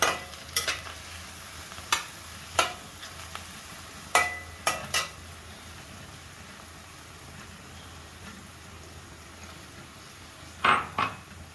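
Masala for a matar mushroom curry sizzles softly in a pan, with a spoon scraping and knocking against the metal in sharp, irregular strokes.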